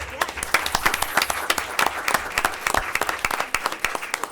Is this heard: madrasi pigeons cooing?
no